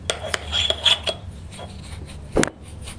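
Metal coin being rubbed by hand to clean it, giving short scraping rasps and light clinks in an irregular rhythm, close and fairly quiet, with one sharper rub near the end.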